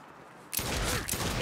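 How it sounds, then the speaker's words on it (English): A burst of rapid gunfire erupts in Saints Row during a police chase, loud sharp cracks following a near-silent half second, with a second volley close behind. "Ooh, two shots."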